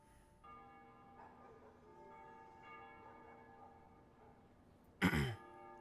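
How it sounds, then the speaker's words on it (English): Church bells ring at dusk in Ace Combat Zero to honor the capital's liberation: a faint, sustained metallic tone with soft repeated strikes, ended by a sharp louder noise burst near the close. "They ring the bells here at dusk to honor the liberation of the capital."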